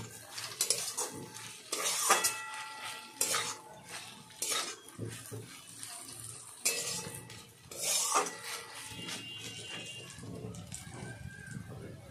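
A spatula stirs kochur loti in a metal pan on a gas stove, giving repeated sharp scrapes and clanks in an irregular rhythm over a faint sizzle.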